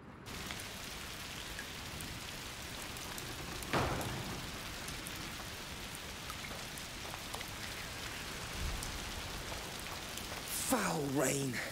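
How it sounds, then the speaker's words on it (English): Steady foul rain pours in the video game A Plague Tale: Requiem, a constant dense hiss of drops across the whole stretch, with a brief louder splash or rumble near the middle and a few faint voice-like sounds near the end. "Foul rain."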